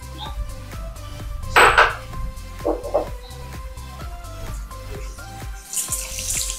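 Tap water runs into a perforated vessel in a kitchen sink while roasted moong dal is washed, with splashing bursts, dish and utensil clinks, and a steady near stream under the clatter.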